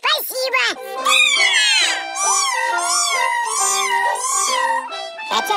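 Cartoon kittens meow in long, bending, musical cries, several voices in a row, loud and close with no other sounds between them.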